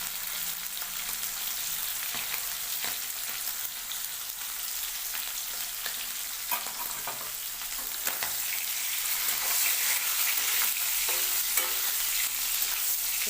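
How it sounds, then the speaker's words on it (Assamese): Broiler chicken pieces seasoned with turmeric and salt fry in a hot pan as they are stirred, giving a steady, close sizzle with scrapes and clinks that grow a little louder toward the end. "এই গৰম হৈছে, মাংস অলপ ভাজি ল'ম।"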